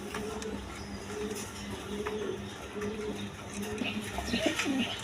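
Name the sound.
Rajgolla pigeon cooing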